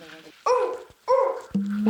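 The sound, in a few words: child imitating a dog barking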